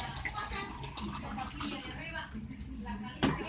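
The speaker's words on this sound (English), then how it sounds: "Where you pour the water" Water is poured into a coffee maker, a soft, steady trickling and splashing that runs under a person talking, with a brief louder knock near the end.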